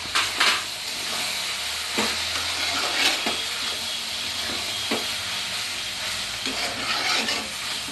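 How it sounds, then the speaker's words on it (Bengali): Bengali-style shredded cabbage fries in a pan, a loud, continuous close sizzle punctuated by repeated scraping stirs of a spatula against the metal, with no speech. "হয়ে গেছে আমার বাঁধাকপি ভাজা"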